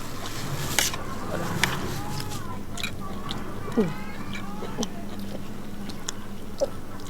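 People chew close to the microphone while eating rice with a spicy Isan-style om curry of mixed vegetables, giving soft, wet mastication with occasional crunches. Voices talk intermittently over the eating.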